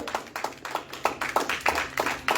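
Congregation applauding during a Spanish-language church service, a quick run of clear, regular hand claps at a steady beat, close and moderately loud.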